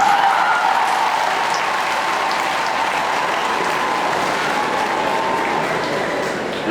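A crowd at a public gathering in Tanzania applauds steadily and loudly throughout, with ululation mixed into the dense, continuous clapping.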